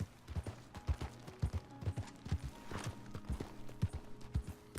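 Horse hooves clip-clop steadily at a trot across open wilderness in Red Dead Redemption 2, a quiet, evenly spaced rhythm of thuds, with faint ambient game sounds around them and no talking.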